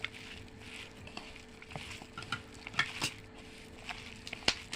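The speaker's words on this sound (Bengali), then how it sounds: "আমি চিংড়ির কিমাটাকে ভালো করে মাখিয়ে নিচ্ছি" Prawn mince being mixed by hand in a bowl in a home kitchen, soft wet squelching and stirring with scattered light clicks of the bowl, close and fairly quiet.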